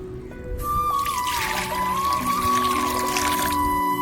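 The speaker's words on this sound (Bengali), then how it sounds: "জল দেওয়া হয়ে গেল, সামান্যখানিক জল" Water poured steadily into a container to mix saline for pigeons, a continuous trickling splash lasting several seconds, close and fairly loud with a faint tonal hum beneath it.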